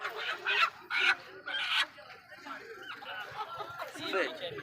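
Dera Bugti roosters and hens at a poultry market cluck and squawk in a busy, overlapping chorus, with louder bursts early on and steady chatter afterward, close to the listener.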